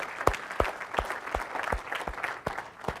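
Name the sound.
audience applause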